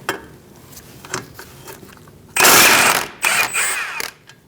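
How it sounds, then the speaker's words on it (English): Socket wrench working a bolt on a 2002-2006 Toyota Camry front suspension during hub replacement, a few faint ratchet clicks followed by loud bursts of metallic grinding and clanking up close. "And now I'm going to remove this bolt."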